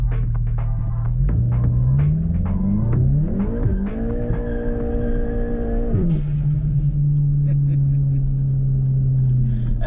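A tuned Volkswagen Golf 7 GTI TCR Edition engine runs close by in sport mode, throbbing and revving up and down in pitch before settling into a steady idle hum.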